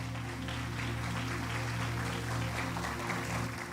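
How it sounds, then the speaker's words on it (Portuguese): Church congregation applauding in a continuous faint wash of clapping, heard from a distance over a steady low hum, with no voices over it. "Você pode dar um aplauso ao Senhor Jesus por isso"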